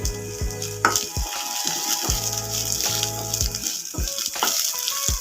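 Tamarind and pirandai sauté in a pan, with an ongoing sizzle broken by repeated tonal metallic clanks and knocks of a spoon or ladle against the pan.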